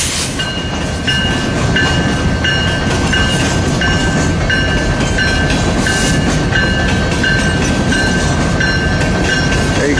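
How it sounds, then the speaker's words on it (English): A loaded coal freight train, with a 70 MAC locomotive as its second unit, rolls east out of Hobson Yard in Lincoln, Nebraska: a loud, steady close rumble and clatter with repeated high ringing tones over it. "coming east out of the yard to head south on the St. Joseph. Is a loaded coal drag"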